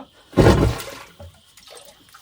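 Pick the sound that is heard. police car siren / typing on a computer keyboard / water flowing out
water flowing out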